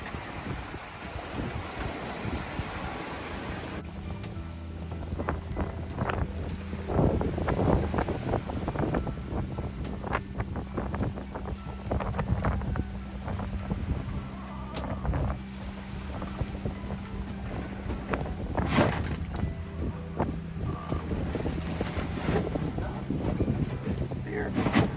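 Wind and waves on a sailboat at sea on a passage from Tunisia to Sardinia, a steady roar of wind noise with irregular thumps and sloshes of water against the hull, with occasional voices.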